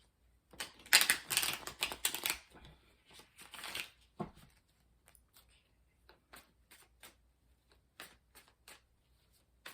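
A tarot card deck is shuffled up close, a dense burst of riffling and flicking cards followed by sparse, softer taps and slides as the cards are squared and handled, with no one speaking.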